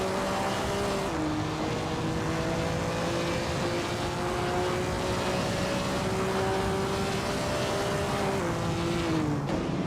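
A 1952 Jaguar C-Type race car engine roars steadily in a racing video game, its sustained drone and shifting pitch filling the whole stretch with no pause.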